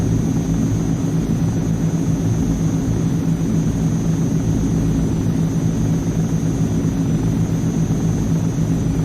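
Steady, loud engine drone of a C-160 Transall twin-engine military transport in flight in a flight simulator, a constant low rumble with a high whine, continuous and unbroken with no voices.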